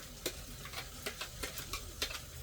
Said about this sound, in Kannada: ಇವಾಗ ಇದನ್ನು ನೀಟಾಗಿ ಮಿಕ್ಸ್ ಮಾಡ್ಕೋಬೇಕು.